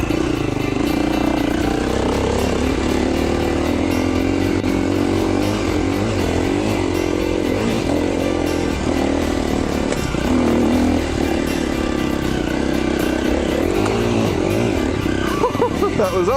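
Continuous close 2011 KTM 350 XC-F dirt bike engine noise from an off-road trail ride, rising and easing with the throttle, loud and rough throughout.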